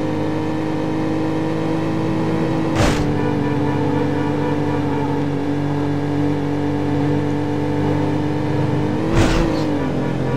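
A car engine in Need For Speed 4: High Stakes drones at a steady pitch throughout, with two brief bursts of harsher noise cutting across it.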